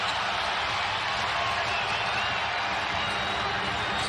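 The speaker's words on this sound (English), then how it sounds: "The crowd stands as one in the background." A basketball arena crowd stands and cheers through a steady, dense roar of voices, a broad wash of sound that stays even and unbroken.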